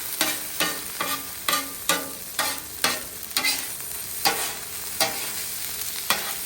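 Chorizo and potatoes sizzle steadily on a Blackstone flat-top griddle while a spatula scrapes and stirs them in a regular rhythm of sharp, close strokes, roughly two per second, with no voices.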